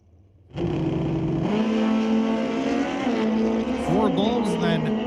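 Kawasaki drag racing motorcycles, one a 1500cc and the other a 1428cc, roar loud and close in a steady droning engine note that climbs and wavers in pitch toward the end.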